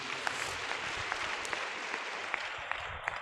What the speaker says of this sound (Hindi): जोर से ताली बजाएंगे यीशु जी के लिए।